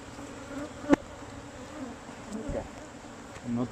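Africanized killer bees hum around an open hive, a faint continuous buzzing drone with a sharp knock or two from hive handling, and a voice speaking briefly.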